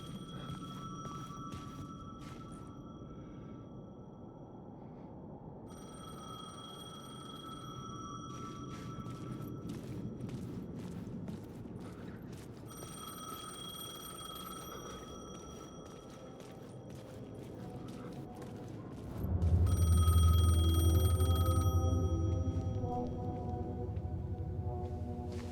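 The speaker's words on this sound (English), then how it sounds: "The payphone was ringing." A payphone ringing in the video game Alan Wake 2, repeated electronic ring bursts in a regular rhythm over a dark ambient drone, with a low rumble swelling near the end; no voices.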